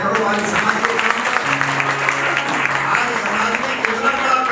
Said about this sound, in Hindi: कम से कम तालियां तो बजाया करो।